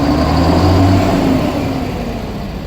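A Bharat Benz 14-tyre lorry with about seven lakh kilometres driven revs its diesel engine near the silencer, a loud steady rumble that eases slightly toward the end, with no talking.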